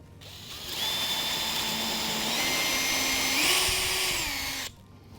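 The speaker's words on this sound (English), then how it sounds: "I'm going to come back and I'm going to drill this one." A power drill runs steadily for several seconds, its pitch rising slightly as it bites into material, then winds down to a stop.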